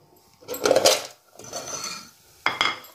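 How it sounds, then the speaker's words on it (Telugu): Cardamom pods being pounded into powder for sheer kurma, three separate bursts of grinding, scraping strokes, each about half a second to a second, close and fairly loud, with quiet gaps between. "ఇలాచీలు పొడి కొట్టుకుంటా."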